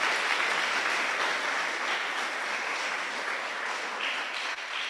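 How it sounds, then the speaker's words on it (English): Steady applause from an audience at a national yogasana sports championship in Zambia, a dense, even wash of clapping that holds for the full five seconds with no voices over it. "Clap for yourselves."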